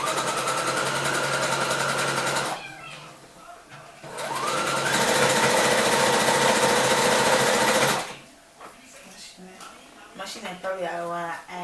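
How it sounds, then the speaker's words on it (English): A regular sewing machine stitches fabric in two loud, close bursts of rapid mechanical whirring, separated by brief pauses, followed by quieter handling sounds and faint talk. "I have to work the harder way and use a regular machine. So I'm going to sew the first one."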